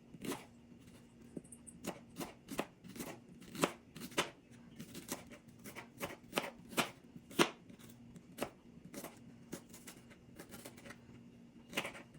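A knife chops through onion on a cutting board in a run of sharp, irregular thuds and taps, close and fairly quiet, with short pauses between bursts.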